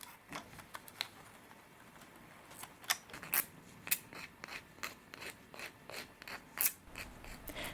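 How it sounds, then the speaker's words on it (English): A small plastic miniature part being trimmed and sanded smooth, making quiet, close, irregular scratchy rasps and clicks in short bursts, with no talk. "I trimmed off the excess plastic and sanded it smooth"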